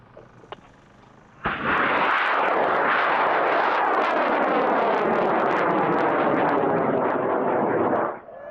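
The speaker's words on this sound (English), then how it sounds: "He flew a big, awesome 24-inch rocket on an O motor" A large 24-inch model rocket launches on an O motor at a rocketry event, bursting into a loud, roaring rush of thrust after a quiet moment that holds steady for several seconds before cutting off and fading.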